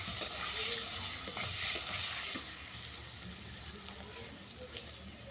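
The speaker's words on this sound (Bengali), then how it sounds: "আলুর সঙ্গে মশলাটা ভালো করে কষিয়ে নিলাম" Masala frying with potatoes in a pan for an egg basanti curry, a low steady sizzle with spatula stirring and scraping, busier at first and then settling to a softer crackle.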